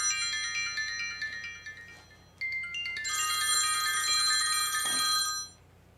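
Phone ringtone or bell-like ring with bright repeated tones, heard during a look at a 1954 Ford Sunliner; fairly loud and continuous for several seconds, with a brief pause before a denser burst of ringing that then cuts off.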